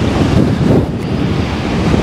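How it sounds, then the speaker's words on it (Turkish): Strong wind blows on the coast of Isla Mujeres, Mexico, buffeting the microphone with loud, low, rumbling gusts that rise and fall over a steady roar, with no voices. "Biraz rüzgarlı ama umarım sesim iyi geliyordur."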